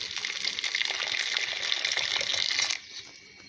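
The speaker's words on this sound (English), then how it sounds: "I'm going to put a little water in the pot." Water pours steadily into a cooking pot for a catfish pepper soup, a loud continuous gushing splash that stops abruptly near the end, leaving quiet room tone.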